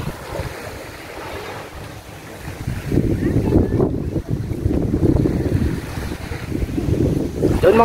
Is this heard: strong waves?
yes